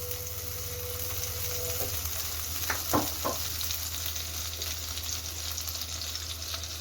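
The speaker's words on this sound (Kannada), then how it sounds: "1 ಸ್ಪೂನ್ ಬೆಣ್ಣೆನ ಹಾಕ್ಕೊತಾ ಇದ್ದೀನಿ. ಹಾಗೆ 1 ಸ್ಪೂನು ಎಣ್ಣೆ," Butter and oil sizzling together in a pan, a steady close crackle with a low hum underneath and a few brief clanks of a spoon partway through, no voices.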